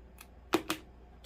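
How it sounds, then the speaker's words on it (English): Scissors snipping fabric while making a gnome: two quick, faint snips close together, with soft rustling around them in a quiet room. "And I'm going to cut this."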